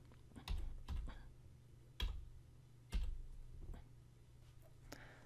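Keys tapped on a computer keyboard while entering a color code, a handful of separate clicks with uneven spacing, fairly quiet over steady low room hum.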